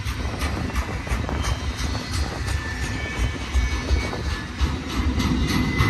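BNSF helper locomotives, distributed power units at Cajon Summit, rumble steadily and fairly loudly nearby with a continuous low engine drone and rattling, heard alone without talk.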